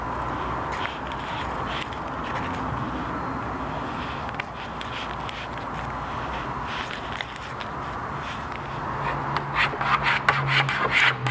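A die-cut checkerboard vinyl decal being burnished down onto a Vespa scooter, close, steady rubbing and rasping strokes, soft and continuous with slightly louder squeaks near the end.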